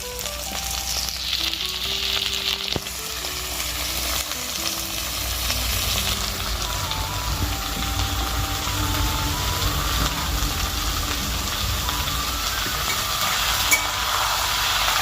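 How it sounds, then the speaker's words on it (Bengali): Meat sizzles and fries in a wok, a steady dense crackle with hissing steam and occasional stirring scrapes, holding loud and close throughout. "তো এখানে রান্না হচ্ছে আমাদের মাংস"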